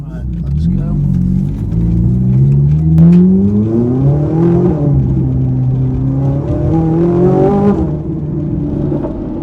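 A naturally aspirated V8 in a Ferrari 458 revs loudly from inside the car, its pitch climbing and falling through several sweeps over nine seconds with a steady deep drone beneath.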